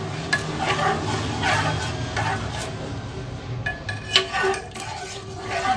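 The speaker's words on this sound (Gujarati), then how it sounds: "અને કન્ટિન્યુ સ્ટર કરતા રહેજો।" Sheer khurma being stirred in a pan with milk, a spoon scraping and clinking against the metal in steady strokes over a soft simmering sizzle, close and moderately loud, with no talking.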